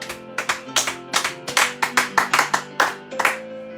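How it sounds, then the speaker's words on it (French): A church congregation claps in a short burst, about a dozen crisp, fairly close hand claps in a loose rhythm over a sustained keyboard or organ chord, with no talking. "Acclamons."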